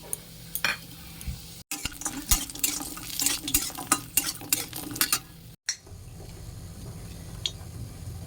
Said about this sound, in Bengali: বড়িটাকে ভেজে নেব।